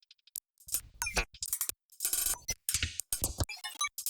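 A choppy, stuttering run of glitchy digital bursts and clicks from an Ableton glitch effect on a hi-hat loop, with bright metallic hi-hat fragments cut into irregular slices and short gaps.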